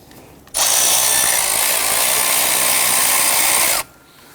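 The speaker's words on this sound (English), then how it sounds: "I'm going to switch over to my power tool and zip that off." A power tool spins a nut off a stud during alternator replacement on a 2007-2021 Toyota Tundra 4.7L V8, a loud, high, steady whine starting abruptly and running about three seconds before cutting off sharply.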